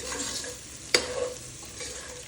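Prawns being stirred with salt in a pan for biryani, a soft continuous frying hiss with one sharp spoon-on-pan clink near the middle.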